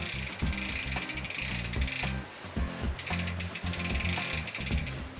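A brush scrubs between the pins of a mountain bike chain and drivetrain to clear out gunk, with rapid ratcheting clicks from the turning freewheel running steadily and close throughout.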